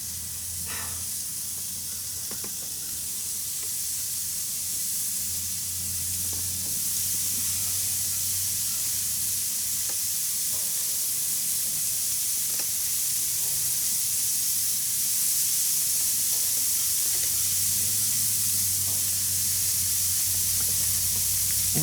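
Six hamburgers on a gas grill put out a continuous hissing sizzle with a low steady hum underneath, constant and close for over twenty seconds with no talking.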